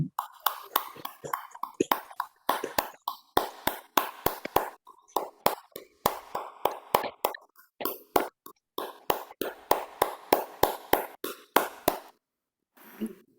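An audience applauds Dr. Sam and a translator with sparse, scattered claps, sharp and uneven, a few people clapping steadily for about twelve seconds before it stops.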